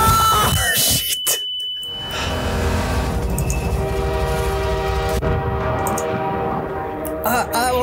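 A train in Half-Life 2 rushes past with a loud sustained horn blast and rumbling rail noise, preceded by sharp game effects and a brief voice, then fading into rattling clatter.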